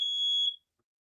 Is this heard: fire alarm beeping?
yes